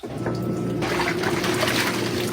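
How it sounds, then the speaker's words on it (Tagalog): Clothes being washed by hand outdoors in a basin of water: steady, close splashing and sloshing with running water, continuous and fairly loud, with no talking. "So, dito ako naglaba guys sa labas kasi para malinis din yung labas."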